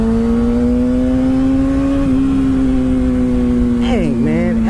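A Yamaha FZ-09 motorcycle engine holds a steady hum at speed, then the pitch dips and recovers as the rider rolls off into engine braking, loud and close with wind noise throughout.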